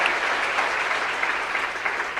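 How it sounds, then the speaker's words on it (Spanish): A church congregation applauds in a dense, steady burst of clapping with no voices over it. "Si les gusta esa promesa, denle un fuerte aplauso a la palabra de nuestro Señor y Salvador Jesucristo."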